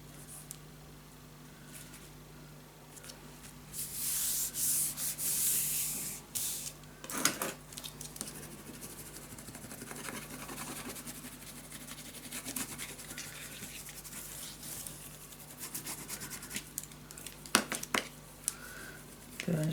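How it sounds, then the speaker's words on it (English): Paper is burnished down onto a crafted treehouse keepsake box, giving soft, close rubbing and scratching strokes with intermittent sharper scrapes at low volume. "Burnish it down."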